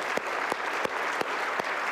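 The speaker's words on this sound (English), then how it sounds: "So let's give a round of applause to Randy, everybody." A church congregation applauds, a short burst of steady clapping from a crowd, fairly near and with no voices over it.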